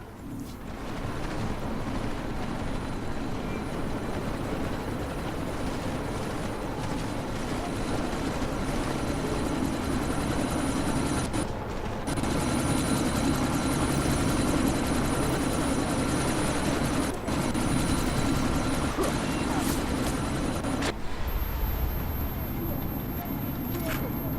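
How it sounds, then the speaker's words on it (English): Loud, steady helicopter rotor and engine drone in the Deus Ex: Mankind Divided video game, continuous throughout with dense noise layered over it. "Miller, chopper's wasted."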